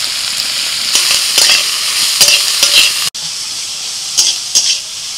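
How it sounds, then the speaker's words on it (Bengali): Chopped onion, cashews and green chilli frying in oil in a pan, a constant close sizzle broken by repeated scraping stirs of a spatula and a brief dropout midway. "পেঁয়াজ, কাজু বাদাম আর কাঁচা লঙ্কা এরকম হালকা হালকা ভাজা হবে"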